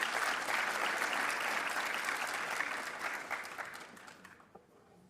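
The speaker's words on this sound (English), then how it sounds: "So give yourself a round of applause" An audience at a Martin Luther King Jr. convocation gives a full, dense round of applause, loud and sustained before tapering off toward the end.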